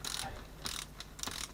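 Screws being tightened on a Peugeot BE4R gearbox during a bearing replacement, heard as a few close, short metallic ratcheting bursts separated by brief pauses over a faint background hum.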